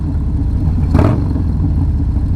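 A truck engine rumbles low and loud in street traffic, with a steady heavy drone and a brief whooshing swell in the middle as it passes near.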